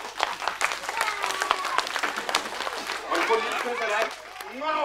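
Audience applause breaks out at a magician's stage show, steady clapping lasting several seconds with voices and shouts mixed in, slightly fading toward the end.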